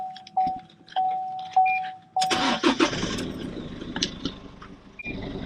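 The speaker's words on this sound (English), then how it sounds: "when Steve turns the car back on" Car engine cranking and firing up after a few chimes from the dashboard, then settling into a running idle, close and clear, with a click near the end.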